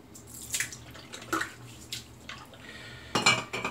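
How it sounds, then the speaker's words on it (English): Quick wet flicks and spatters as water is shaken from a shaving brush, a few brief bursts with small drips between them, close and fairly quiet. "So I'm going to shake out the brush."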